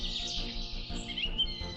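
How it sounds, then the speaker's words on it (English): Forest birdsong from an app's sound effect: bright high chirps and tweets layered over a soft tonal backdrop, continuous and moderately loud. "In the forest, you hear bird chirping."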